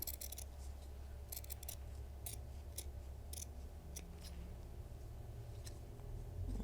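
Scissors snipping fabric for a homemade cat toy, a series of crisp, irregular cuts close by over a low steady background hum, with no talking.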